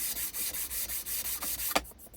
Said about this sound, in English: these are radius sanding blocks